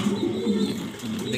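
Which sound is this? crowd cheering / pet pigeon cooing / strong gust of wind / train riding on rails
pet pigeon cooing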